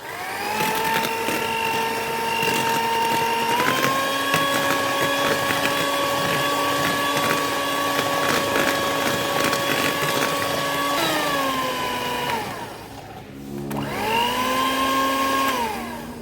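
An electric mixer whips margarine with powdered sugar into batter for an old-fashioned butter cake, a steady whirring motor hum that shifts speed twice and briefly dips before resuming, with no voices.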